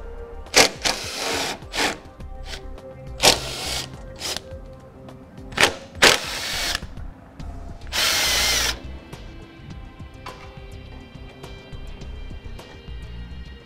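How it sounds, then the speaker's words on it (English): A power tool whirs in short bursts while removing the bolts that hold the frame extension on a 2013 Chevrolet during a Blue Ox base plate install. Several brief spins come close together, then one longer run, then quiet. "we can remove the 4 bolts, 2 on top and 2 on bottom,"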